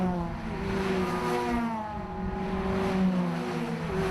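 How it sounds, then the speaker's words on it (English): Ford Fiesta race cars in an SMRC Fiesta and Hot Hatch round come up the main straight behind the pace car, engines droning and rising in pitch as they pass close by in a continuous stream, with no one talking. "All the Fiestas passing us."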